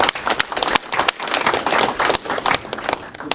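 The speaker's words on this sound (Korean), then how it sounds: "큰 박수로 보내주시기" Loud, dense applause from a crowd at a Korean political party campaign committee meeting, sustained clapping filling the room without a break.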